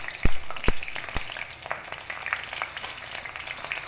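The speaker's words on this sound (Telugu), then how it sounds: "మూకిట్లో నూనె వేసాను చూడండి. దీంట్లో మనము ఇప్పుడు పచ్చిమిరపకాయలు," Green chillies and spices frying in hot oil in a pan while chemmakaya mutton keema is cooked: a steady, close sizzle with a few sharp pops and crackles near the start.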